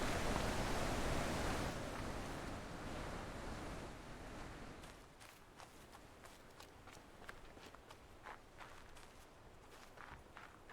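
Water in the puzzle video game The Witness, a broad washing surf-like rush that fades after a few seconds into quieter ambience with scattered soft clicking steps, faint throughout.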